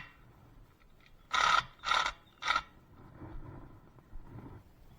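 Three quick, loud bursts of ratchet clicking come close together on a Honda HRX217 push mower bolt, then the clicks give way to quieter scraping and handling noises.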